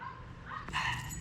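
A dog barks a few times in a backyard garden during end-of-season cleanup, faint at first and then a louder bark, with outdoor background noise.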